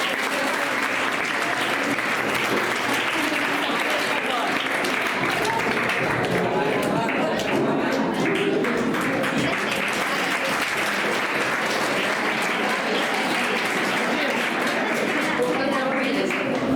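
An audience at a school celebration for 10th-class exam results applauds continuously, dense loud clapping filling the hall for the whole stretch, with voices faintly mixed in.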